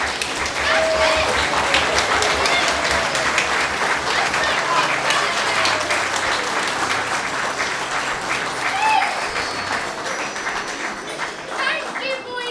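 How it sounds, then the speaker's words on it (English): Children in the audience at a Peter Pan stage show clap hands loudly and continuously, a dense, sustained wash of applause mixed with excited young voices and crowd noise. "Clap your hands if you believe in fairies."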